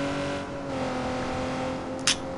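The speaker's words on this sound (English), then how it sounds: "I hope my mic is louder than this sound. I hope it is, cause this car is loud as hell." A car engine in the video game Watch Dogs 2 drones loud and steady, a constant tonal hum throughout with a short sharp burst near the end.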